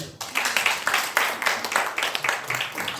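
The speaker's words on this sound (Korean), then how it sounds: "큰 박수 부탁드립니다." Hearty applause from a seminar audience welcoming a company CEO's presentation at a school physical-education research group, dense claps swelling and ebbing in waves with no speech over it.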